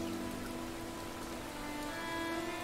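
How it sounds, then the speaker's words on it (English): Rain falls endlessly on a town in the video game Rain, a dense, even hiss of drops beating down between buildings and soaking the streets, with a faint steady tone underneath. "The rain was falling endlessly on the town"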